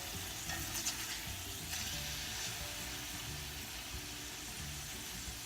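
Salmon pieces seasoned with lemon pepper sizzle steadily in a frying pan as they are flipped over, a constant broadband frying hiss with faint scraping, no talking.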